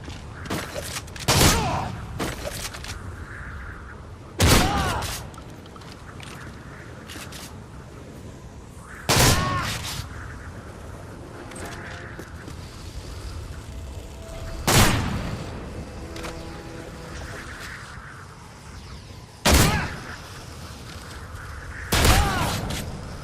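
Shotguns fire in Modern Warfare 3 during close-range aim-down-sights testing, with six loud, sharp blasts spaced several seconds apart and quieter gameplay ambience in between.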